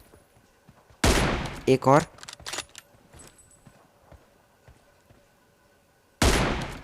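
Gunfire in the mobile battle-royale game PUBG Mobile: a loud burst of several rapid shots, then a brief pause and another loud burst near the end, with someone speaking briefly in between.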